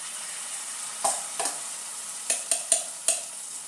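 Jackfruit batter sizzles steadily in hot oil in a pan, with several sharp clicks and splashes as portions are dropped in at uneven intervals; close and moderately loud, with no voices.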